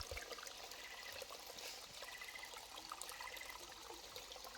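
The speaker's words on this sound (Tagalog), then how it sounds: "Oh, may bukal dito sa may property." Natural spring water trickling outdoors on rural farm land, a faint, steady dribbling stream with a soft watery hiss and no voices.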